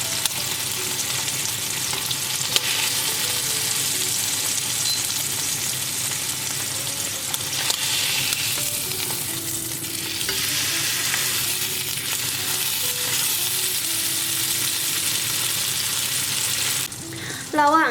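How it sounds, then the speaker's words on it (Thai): Pork sizzles and crackles steadily in butter in a hot pan, close and continuous, with a brief clatter right at the end. "ระหว่างที่เรารอหมูนะคะหนึ่งก็คล้ายๆกับแบบทิ้งมันไว้ในกระทะนั่นแหละแล้วก็เปิดไฟอ่อน"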